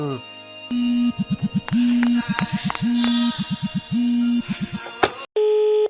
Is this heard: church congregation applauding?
no